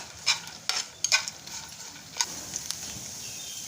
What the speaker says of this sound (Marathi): हे बदाम आपण 3 ते 4 मिनिटं चांगले तळून घेणार आहोत। एकदम मंद आचेवरती तळायचे।